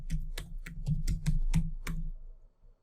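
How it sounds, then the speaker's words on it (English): Someone types a password on a computer keyboard, about eight crisp, close keystrokes in an uneven rhythm, then stops, with no voices. "so I need to type in my password."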